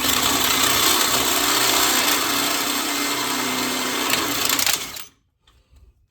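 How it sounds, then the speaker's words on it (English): A cheap power drill whines steadily and loudly while boring holes in a car's front suspension part, a Buick Grand National coilover job, running continuously for about five seconds before cutting off abruptly into near silence. "these are cheap drills, so it ain't gonna be. I ain't gonna drill that good"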